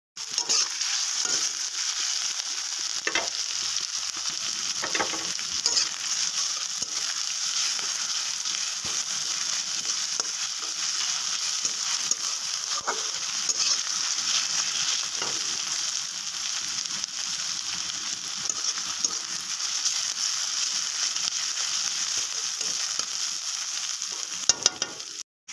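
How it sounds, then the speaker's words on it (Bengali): Onions and green chilies fry in hot oil for a potato and egg curry, a loud, continuous close-up sizzle that holds steady throughout, with a few faint utensil knocks. "একটুখানি লাল লাল করে ভেজে নেব, বাদামি কালার করে।"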